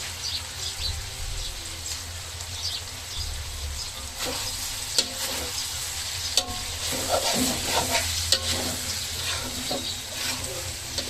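Chicken curry, a Thai-style red or green curry, being stirred and sautéed in a pan, with steady low sizzling, intermittent scraping strokes of a spoon and a few bird calls faintly in the background.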